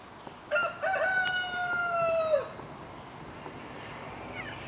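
A rooster crows loudly nearby in a long, drawn-out cock-a-doodle-doo, with faint clucking from young hens in a rainy, monsoon-soaked backyard.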